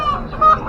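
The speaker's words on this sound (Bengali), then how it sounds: "এই দেখুন, দেখুন হাঁসও দেখলাম।" Ducks at Nilganj pet market give a short, close honking quack that swells briefly mid-clip over a busy market hum.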